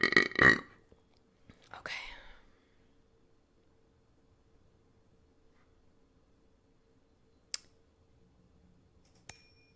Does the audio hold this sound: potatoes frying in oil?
no